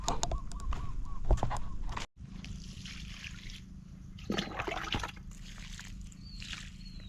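Water trickling and splashing as it is poured onto a sponge gourd plant in a garden row, in uneven bursts with birds chirping faintly in the background and no speech.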